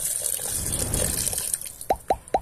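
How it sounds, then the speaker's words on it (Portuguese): Water is poured into a pot over beef ribs being cooked for a rice dish. A soft, steady pour is heard, then three distinct close plops and drips near the end. "Agora vamos completar com água."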